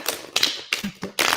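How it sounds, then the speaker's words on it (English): A deck of tarot cards is shuffled by hand in short, crisp bursts of papery riffling and tapping, close and fairly loud, with brief pauses between bursts. "I'm going to shuffle the cards right quick for you"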